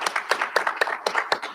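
A single person clapping hands at a recognition ceremony, six or so crisp, evenly spaced claps close to the microphone, loud and isolated without background noise.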